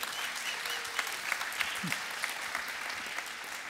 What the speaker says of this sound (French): Allez, on leur applaudit encore une fois.